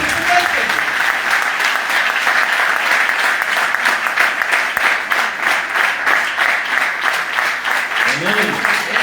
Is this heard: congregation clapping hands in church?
yes